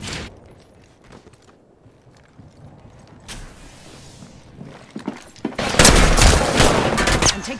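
Gunfire in Apex Legends, with sparse shots and mechanical clicks at first, then a loud sustained barrage of rapid close shots near the end.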